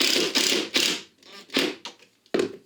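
A screw is driven through a lamp fitting into a plasterboard wall plug, heard up close as a string of short, uneven ratcheting and grinding bursts separated by brief pauses.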